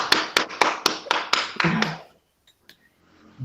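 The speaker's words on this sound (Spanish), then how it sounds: "Cecilia, un aplauso grande en la virtualidad" Brief patter of hand claps, a quick run of sharp, close taps that fades out after a couple of seconds into near silence, applauding a speaker at an online conference.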